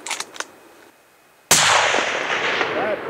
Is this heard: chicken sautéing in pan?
no